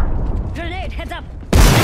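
A grenade explodes in a multiplayer shooter video game, a loud, sudden broadband blast that lands near the end right after a voice line plays.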